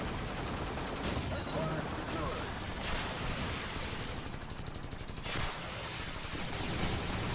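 Sustained rapid gunfire from a Call of Duty match, Modern Warfare era on PS3, rattling in dense continuous bursts with brief lulls and a voice faintly underneath.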